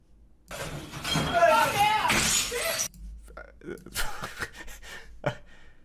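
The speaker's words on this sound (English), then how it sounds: "there is a lot of glass being thrown here" Glass objects hurled and smashing in a restaurant scene, a loud burst of shattering and tinkling shards followed by scattered clinks, with gasps and voices around it.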